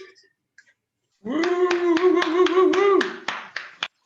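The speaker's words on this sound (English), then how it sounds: "I want a large, big round of applause for Lucy Orchard" A few people clapping for a comedian at an online Zoom comedy show, with sharp hand claps close to the microphone over a drawn-out voiced cheer, then some final scattered claps.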